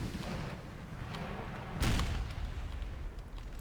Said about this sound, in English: as you can see, the artillery is still making short work of our allies